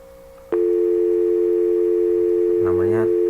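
A telephone ringback tone plays as a number is dialed, a steady loud tone held continuously after a click, joined near the end by a faint voice underneath.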